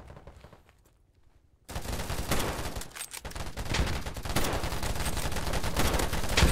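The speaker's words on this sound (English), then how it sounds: "now it's time to try out some sniping" Gunfire in a Battlebit-style video game while sniping, quiet at first, then loud rapid shots and explosive bursts from a busy battlefield, continuous and close.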